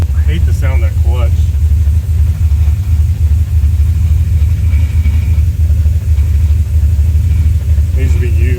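LS-swapped Datsun 280Z engine running, in need of spark plugs: a loud, steady, deep rumbling drone that continues unbroken, with brief voices over it near the start and end.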